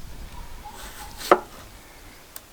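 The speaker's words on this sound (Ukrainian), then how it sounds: "Набагато легше різати на досточки отак" A single crisp knife chop through potato on a cutting board, one sharp cut standing out against a quiet kitchen background, with a faint tap following shortly after.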